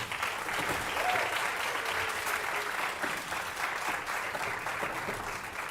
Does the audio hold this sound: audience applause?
yes